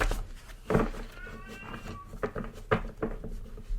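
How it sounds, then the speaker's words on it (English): A kitten cries indoors with several plaintive meows, close and fairly loud, spaced irregularly across a few seconds with some quiet handling noise between calls. "My kitten is crying."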